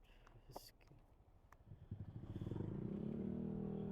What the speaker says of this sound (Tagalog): Ingay naman ang motor nun.